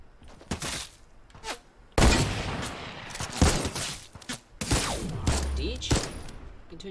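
Fortnite Battle Royale gunfire in a creative battle, bursts of rapid shots and sharp cracks scattered through the clip, fairly close, with some talking mixed in.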